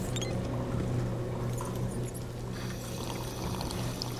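Water pouring steadily from a drinking fountain in the Ghostbusters Remastered video game, a continuous splashing stream with a low steady hum underneath, moderately loud throughout.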